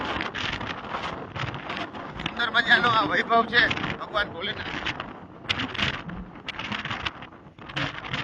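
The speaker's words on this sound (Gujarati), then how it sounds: "પવન છે મિત્રો, વરસાદ જરાય નથી." Gusty wind without rain buffets the microphone in rough bursts at Bet Dwarka by the Sudarshan Setu bridge, while someone talks continuously over it outdoors.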